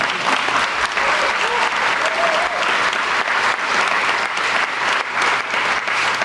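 An audience at a science ministry public briefing in Daejeon breaks into sustained applause, a dense, even clapping that fills the room from start to end.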